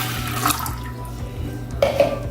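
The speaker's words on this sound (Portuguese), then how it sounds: "Então eu vou colocar aqui na minha panela a água, tá? Em temperatura ambiente," Room-temperature water splashes into a cooking pan as the base for a traditional cake syrup, a continuous close liquid pour with a couple of brighter clinks and splashes toward the end.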